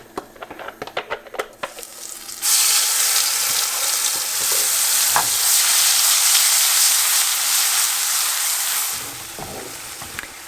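Pureed onion hitting hot oil with cinnamon and garam masala, a loud, steady sizzle that bursts in after a few light clinks and stirring sounds, then fades slightly toward the end.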